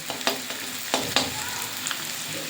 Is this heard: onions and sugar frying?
yes